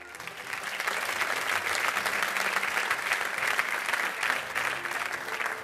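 A large audience applauds at a live draw ceremony for a women's handball championship, with sustained, even clapping throughout and faint crowd murmur beneath.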